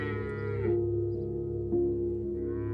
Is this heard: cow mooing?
yes